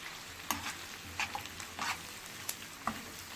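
Salted onions frying in a pan with a soft sizzle, broken by several sharp scraping stirs of a spoon at irregular intervals, close and fairly quiet.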